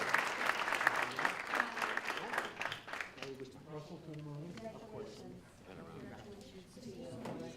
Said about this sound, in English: I guess a round of applause for everyone who submitted essays.